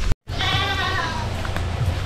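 Newly acquired goats on a small farm bleat in a quavering, repeated cry that starts right after a brief silence and carries on fairly close and loud over steady outdoor background noise.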